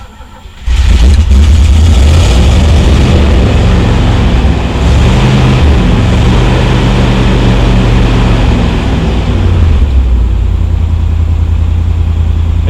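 A 1978 Chevrolet El Camino engine cranks and catches after choke use, then runs loud and steady at a rough idle close by, with deep low rumble throughout and slight variations in revs.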